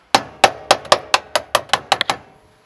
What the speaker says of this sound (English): That's where the hammer comes in handy. Do a little tapping.